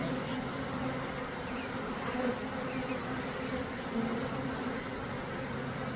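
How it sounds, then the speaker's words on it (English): A dense swarm of honeybees buzzing outdoors during a swarm capture with a large net, a steady, close, continuous drone that runs throughout with no talking. "This is really cool seeing the bees all over."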